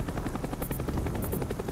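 An enemy Cobra attack helicopter in a multiplayer video game passes close overhead, its rotor chopping in a fast, loud, pulsing rhythm with a whining turbine beneath, heard alone.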